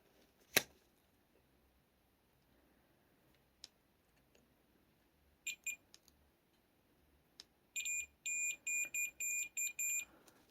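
A multimeter in continuity mode tests the battery terminals of a water-damaged Nintendo DSi, giving faint clicks followed by a string of short, sharp electronic beeps repeated in quick succession near the end.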